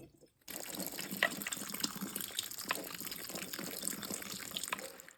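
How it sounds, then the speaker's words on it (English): Tap water runs steadily over canned chickpeas in a strainer in a kitchen sink, a continuous close splashing and gushing rush with small clattering bits, no talk over it. "I just put the strainer in the sink and now I'm just going to dump it in here and then probably rinse it"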